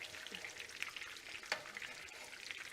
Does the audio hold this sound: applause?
no